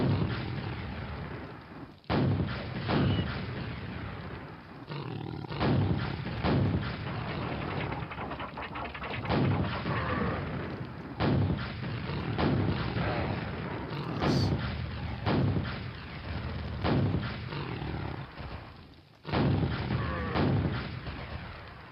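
Rocket launcher fire and explosions from the video game Quake (Scourge of Armagon expansion), heavy booming blasts repeating in rapid bursts, loud and close throughout.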